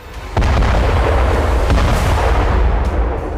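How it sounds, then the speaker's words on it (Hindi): Loud explosion at a Russian weapons depot in Donetsk: a sudden heavy blast that rolls into a sustained, roaring rumble with scattered sharp cracks and pops, alone without voices. "इस बारूदी धमाके के पीछे कोई तकनीकी फॉल्ट नहीं है"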